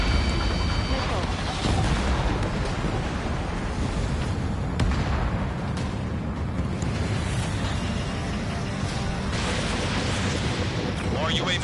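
Missiles launching and detonating in Ace Combat 7 air combat, a continuous dense roar of booming blasts and rushing engine noise with radio voices talking over it throughout.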